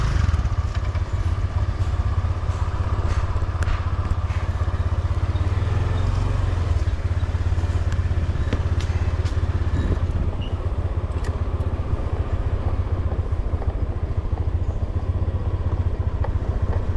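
A moped engine drones steadily while riding on Koh Phangan in Thailand, a loud, constant low rumble with wind buffeting and occasional clattering knocks throughout.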